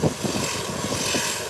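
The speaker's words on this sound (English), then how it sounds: "It's a bit noisy now with the engines, but I'm doing my best to show you" American Airlines airliner rolling down the runway, its jet engines producing a loud, steady broadband roar that fills the whole clip without pause.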